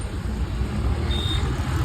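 Heavy city road traffic near a metro junction forms a dense, steady rumble of passing cars and engines, with one brief high tone partway through.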